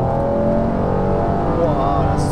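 A 1995 Honda NSX's engine revs loud and close from inside the car, a sustained tonal howl whose pitch rises and bends as the engine climbs.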